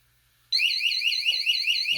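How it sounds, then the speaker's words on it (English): EndZone humidity monitor's external alarm sounding: a loud, high-pitched electronic warble that starts abruptly and repeats in a steady fast rhythm, close by, with a faint knock near the end. "the external alarm draws our attention to this"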